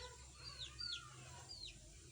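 Faint, distant chicken calls from a rooster among hens, a few short high-pitched clucks and squawks spaced apart over a low background rumble.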